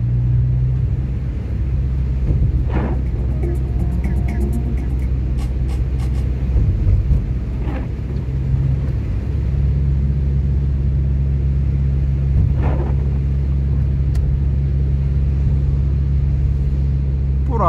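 A car drives along a snowy road during a driving lesson, its steady low engine and tyre rumble continuous and close from inside the cabin, with a few faint knocks.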